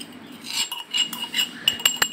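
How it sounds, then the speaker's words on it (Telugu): A spoon stirs chilli powder through fried okra (lady's finger) pieces in a pan, giving a run of light metallic clinks and scrapes, close and fairly quiet, with no voices. "మొత్తం కారం వేసాక మొత్తం ముక్కలకు కలిసేలాగా మెల్లగా కలుపుకోవాలి"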